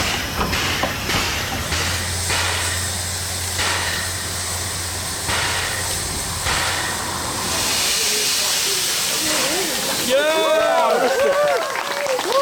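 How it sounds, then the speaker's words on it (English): Steam locomotive AB 699 hisses steadily as it runs toward the front of a passenger train, loud and close with bursts of venting steam and some rail clatter, with a voice briefly heard. "AB 699, running to the front of the train where she will take over the passenger services for the rest of the afternoon."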